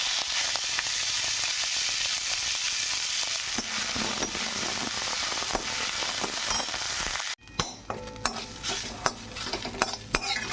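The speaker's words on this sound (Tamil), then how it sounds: "கீரை போட்டு வதக்கிக்கலாம்." Drumstick leaves (murungai keerai) are sautéed in a pan for a thuvaiyal, a steady crackling sizzle with spatula scrapes that cuts off sharply partway through, followed by scattered metallic clinks and scrapes.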